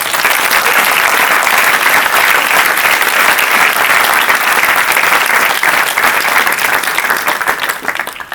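Sustained, loud applause from a lecture audience fills the hall without letup, dense and steady throughout and tapering only slightly at the very end.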